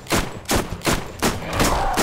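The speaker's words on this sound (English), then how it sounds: "This is the single worst SMG I have ever had in my entire time playing this game" Submachine gun fire in the video game Borderlands comes as four or five separate loud bursts spaced roughly half a second apart, each a sharp crack with a short rattling tail.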